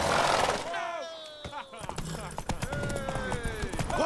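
Hoofbeats clip-clop at a steady trot in The Witcher 3 while a voice talks over them, with a short neigh-like call partway through.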